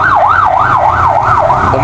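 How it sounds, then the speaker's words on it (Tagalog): An ambulance siren wails loud and close in a rapid, regular rising-and-falling cycle, repeating about five times with faint road traffic underneath. "dumaan ng ambulansya."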